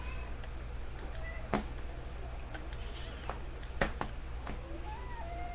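A house cat meows several times, short separate calls spread out over a steady low hum, nearby and moderately loud.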